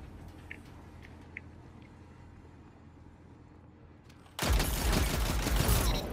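Machine gun fire in the video game Destiny 2 erupts suddenly after a stretch of quiet low rumble, a loud, dense, sustained burst that runs to the end.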